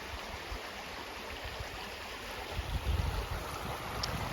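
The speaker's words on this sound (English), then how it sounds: "So the creek is looking really pretty." A spring garden creek flows steadily nearby, giving an even, broadband rush of moving water that holds constant throughout, with no talking.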